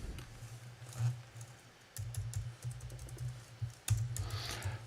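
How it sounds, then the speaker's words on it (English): Computer keyboard typed on in bursts of soft, close clicks separated by short pauses, fairly quiet with no talk. "I have my keyboard here."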